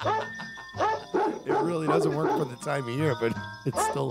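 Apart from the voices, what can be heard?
dogs barking in a played Christmas song recording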